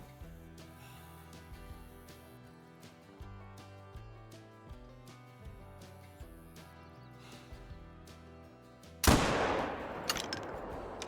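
A .577 Gandhare blackpowder rifle fires a single loud, booming shot in Call of the Wild, a sharp blast near the end that rings out with a long decaying tail over a quieter stretch of music.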